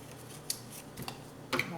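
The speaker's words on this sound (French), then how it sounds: "vous pouvez tracer pour couper la même forme sur votre papier design" Scissors cut through decorative scrapbooking paper in three quick, close snips spaced about half a second apart.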